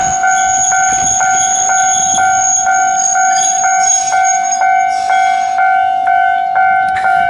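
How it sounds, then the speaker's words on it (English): A train idles loudly close by at a tiny railway station in Japan, a steady tonal hum with a repeating chime or bell pulsing at regular intervals throughout. "This tiny little train station, right?"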